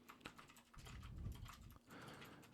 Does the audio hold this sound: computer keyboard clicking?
yes